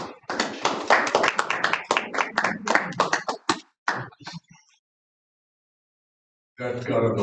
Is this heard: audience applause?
yes